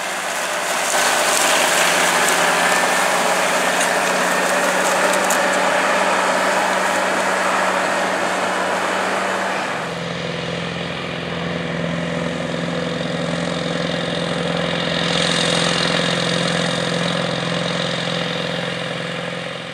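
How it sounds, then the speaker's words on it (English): A heavy diesel engine of an International 1566 tractor roars steadily at close range, its tone dropping and settling midway as it keeps pulling an International 616 moldboard plow under load. "International 1566 tractor, working with an International 616 720 moldboard plow."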